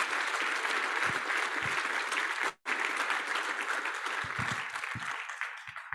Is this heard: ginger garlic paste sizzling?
no